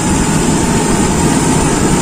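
A Toyota Kijang engine running steadily at raised RPM, a loud, dense, continuous drone close to the microphone with no variation or voices.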